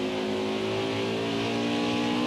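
A race car engine in the NASCAR Heat 5 video game, holding a loud, steady high-revving drone through an upshift, close and continuous without pause.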